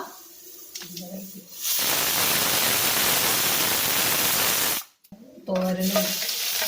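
A loud, steady sizzling hiss of dried red chillies frying in hot oil fills the middle of the clip, with speech before and after it.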